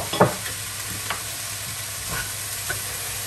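Liver and onions dusted in flour fry in a coated pan, a steady close sizzle with a few soft stirring scrapes and clicks, no talking.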